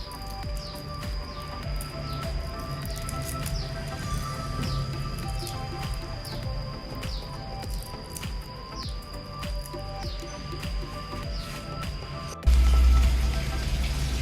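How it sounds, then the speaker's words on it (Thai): Chili paste with garlic and salt being pounded in a mortar for a Lao-style jaew with rattan shoots, a steady run of soft wet thuds and squishes up close, then a louder knock near the end. "ตำให้มันเข้ากันดี"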